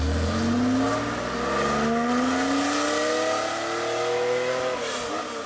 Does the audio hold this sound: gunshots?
no